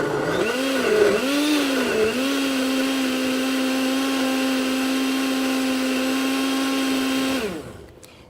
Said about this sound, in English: Blend this mixture.